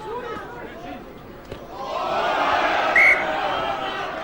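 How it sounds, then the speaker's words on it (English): A rugby crowd at the British & Irish Cup Final swells into a loud roar and calls out, with a short sharp whistle blast above it. Faint commentary is heard underneath early on. "Crowd calling, didn't they?"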